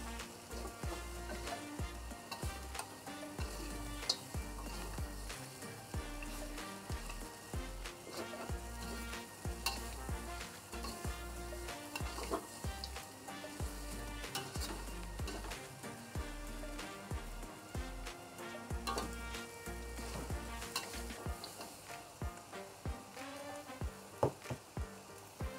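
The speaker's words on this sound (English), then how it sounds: "Stirring." Dry curry lamb frying in a pan sizzles steadily and loudly for the whole stretch, with a spatula scraping and stirring in a quick, uneven rhythm and no voices.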